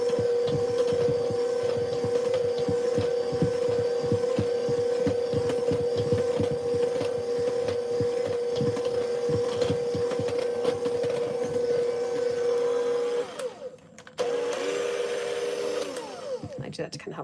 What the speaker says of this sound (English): We're done with our hand mixer.